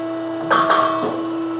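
A hydraulic mandrel tube bender, working on custom Corvette frame rails, extends its clamp die: a short, quiet mechanical clunk and shuffle over a steady electrical hum, with a second soft knock just after.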